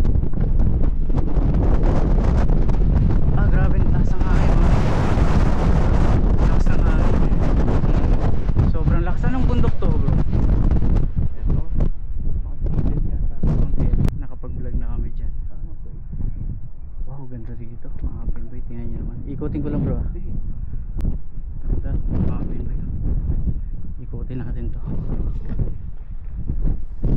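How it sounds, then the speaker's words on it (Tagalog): Strong wind roars and buffets the microphone on the summit of One Tree Hill, Cornwall Park, New Zealand, loudest in the first half, then eases as someone talks over the lingering gusts. "Grabe ang taas ng hangin, oh."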